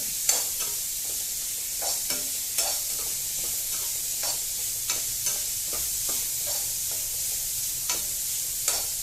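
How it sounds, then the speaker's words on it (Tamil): Onion with ginger garlic paste sautés in a kadai for egg fried rice, a continuous bright sizzle with repeated light ladle scrapes and taps at an even pace. "ஆனியன் கூடயே இஞ்சி பூண்டு பேஸ்ட்டையும் போட்டுருவோம். கொஞ்சம் வதக்க விட்டுட்டு"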